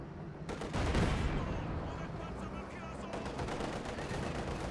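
Dense battle gunfire from the Company of Heroes 2 video game, with rifles and machine guns firing continuously in a busy wash of combat noise under commentary.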